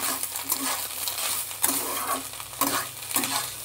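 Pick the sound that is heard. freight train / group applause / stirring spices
stirring spices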